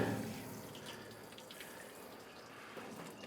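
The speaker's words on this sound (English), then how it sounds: "rinse your onions off" Onions rinsed in a basket outdoors under running water, a steady soft splashing rush, fairly faint and continuous throughout.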